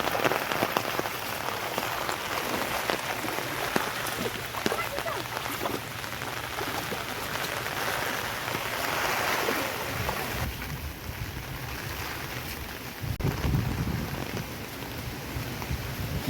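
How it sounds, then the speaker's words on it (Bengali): Heavy rain and gusty wind from Cyclone Remal, a constant loud wash of rain with surging gusts and a deep rumble that rises near the end. "সকালবেলা বৃষ্টির দাপট বাড়ছে আর তার সাথে এই ঝোড়ো হওয়ার পরিমাণে আস্তে আস্তে বাড়ছে"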